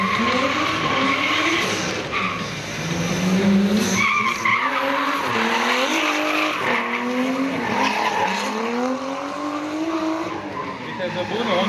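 At a 2011 drift championship qualifier in Timisoara, a drift car skids through a judged run, with long rising and falling tire squeals and engine howl over crowd noise while a commentator talks throughout.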